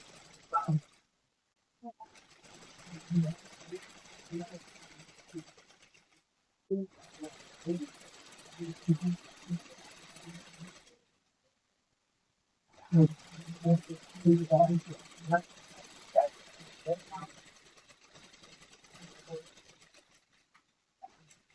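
Sewing machine stitching the kalis (flared panels) of an iron-pleated frock with a half-inch margin, running in short bursts of a few seconds separated by pauses, fairly close and steady.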